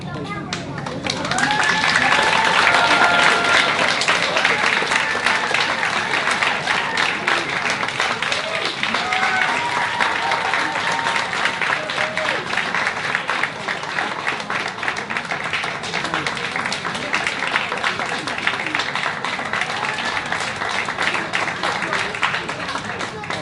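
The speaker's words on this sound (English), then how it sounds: "Let's give them another big round of applause." A large crowd applauds steadily at a library's twentieth anniversary celebration, dense clapping that holds at an even level throughout after a short quiet start, with faint voices mixed in beneath.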